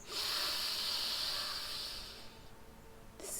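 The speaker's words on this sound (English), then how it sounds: "Inhale." A person breathes in deeply in a long, steady, airy hiss that lasts about two and a half seconds and fades out, ending with a brief rustle.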